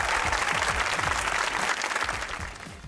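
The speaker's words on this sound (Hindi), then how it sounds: "बजाओ तालियां बजाओ।" Audience applause at a live comedy show, a dense steady patter of many hands clapping for about three seconds and fading slightly at the end.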